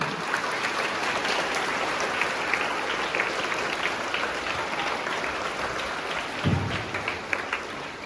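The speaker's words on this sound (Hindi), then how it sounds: "मेजर ध्यानचंद जी के लिए एक बार जोरदार तालियां हो जाए" Loud applause from a school audience at a National Sports Day event honouring hockey legend Major Dhyan Chand, continuous clapping for the whole stretch with a brief low thump near the end.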